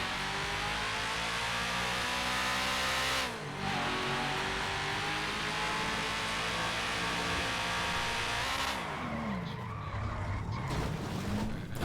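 A car engine in a GTA-based ESX game server roars loudly and continuously, revving up and down with a brief dip and later pitch swings, with no voices present.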